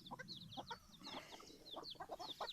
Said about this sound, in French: j'ai attrapé les poussins et je les ai sortis